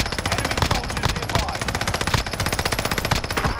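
Rapid automatic gunfire in a shooter video game, a steady fast rhythm of loud close shots in a sustained burst lasting a few seconds, with no talking.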